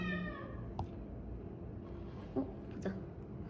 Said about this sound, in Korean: 다리가 짧은 고양이.